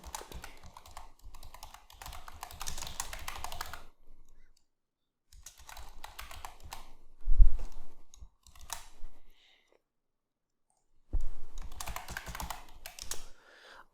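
Someone types on a computer keyboard in quick bursts of close, crisp key clicks, separated by short silent pauses, with no voices.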